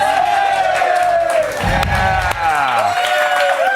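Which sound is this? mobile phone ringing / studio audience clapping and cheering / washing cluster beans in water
studio audience clapping and cheering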